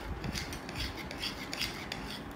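A caramelized cookie mixture of ragi, oat, wheat, almond and pistachio being stirred: a soft, steady scraping and rubbing of a utensil through the thick mixture, faint and continuous.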